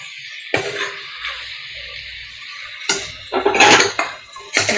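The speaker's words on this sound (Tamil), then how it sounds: "இறால் சேர்த்து நல்லா பரட்டி விட்டுக்கோங்க." Prawns tossed into masala in a pot for prawn biryani, with metal spoon scrapes and clinks against the pan coming in short bursts, louder toward the end, with a soft sizzle between.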